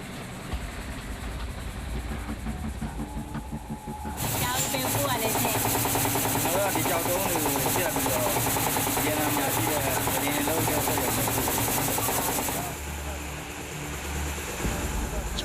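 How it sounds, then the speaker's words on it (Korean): A stone cutting saw grinds steadily through a block of gemstone rock at a mine in Myanmar, a loud continuous whining roar that starts abruptly and runs for several seconds before easing off. "하루 온종일 시끄러운 절단기에 매달려야 네모 반듯한 돌들을 얻을 수 있다"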